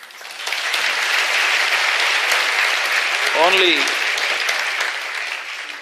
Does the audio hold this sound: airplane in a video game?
no